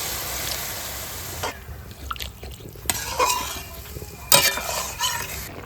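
Water poured into a ridge gourd curry in a pan and stirred, with scraping and stirring strokes, a soft sizzle and a few clinks of a utensil against the pan, close and moderately loud with no talk.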